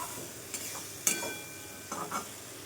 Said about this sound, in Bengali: আদা আর সর্ষে বাটা দিয়ে মশলাটা কষে নেব।